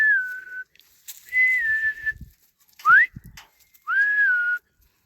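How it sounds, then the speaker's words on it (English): A person whistles gently to calm sheep, a short series of clear sustained notes with one quick rising slide, separated by quiet pauses and faint shuffling. "I've started doing a little whistle for them."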